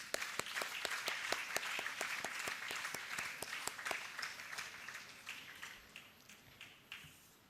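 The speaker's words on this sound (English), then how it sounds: "let us welcome him with a big applaud" Audience applause welcoming a speaker at the EMPOWER-2024 event: a modest, fairly quiet group clapping in a loose steady rhythm, with sharp individual claps standing out before it gradually thins and fades.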